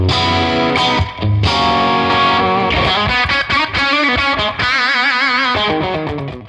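An electric guitar plays through a PolyChrome DSP Lumos amp set to a gritty edge-of-breakup tone, loud and close, with strummed chords and picked notes ringing with light distortion.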